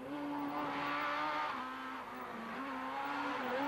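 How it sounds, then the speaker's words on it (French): A 2-litre Opel Astra Kit-Car rally car in Rally Elpa 2003 drives past with a loud, high-revving engine that climbs through the gears, eases briefly and then revs hard again. "Ça, c'est une Opel Astra Kit-Car, celle de Thomas Tergliakis"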